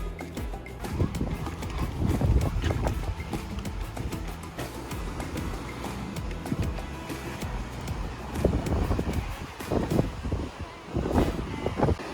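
Gusty wind rumbles across the microphone in uneven bursts at a campground resort in Rodanthe on North Carolina's Outer Banks, rising and falling over several seconds, with faint background sounds underneath.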